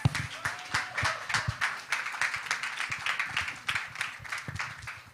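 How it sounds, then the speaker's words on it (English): After a speech at a women's summit, an audience claps steadily. The claps are quiet and somewhat distant, with a loose, uneven rhythm and no talking over them. "A very big round of applause."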